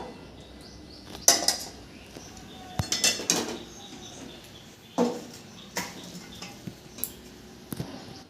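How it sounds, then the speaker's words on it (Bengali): Metal kitchenware clanks and clinks in sharp separate knocks, like a pot lid lifted and set down among utensils, close by. "ঢাকাটা কিন্তু আমি এবার খুলছি"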